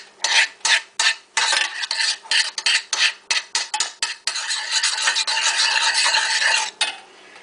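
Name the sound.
stirring butter around in a pan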